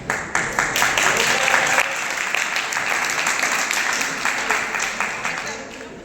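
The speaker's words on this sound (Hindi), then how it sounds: "जोरदार तालियां बजाएं" An audience claps at a quiz award ceremony, a dense burst of applause that swells, holds steady, then thins into scattered individual claps toward the end.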